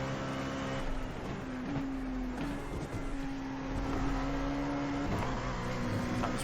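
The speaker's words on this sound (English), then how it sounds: "That was proper four-wheel slide as well." An LMP2 prototype race car in iRacing sliding on all four wheels at Watkins Glen, its engine droning steadily at high revs throughout with a sustained tone, no talk.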